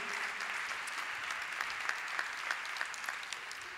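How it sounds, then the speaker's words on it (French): Audience applause at a Paris smart city challenge announcement event, a sustained wash of clapping with a few sharper individual claps standing out, no speech over it. "je pense qu'on peut les applaudir"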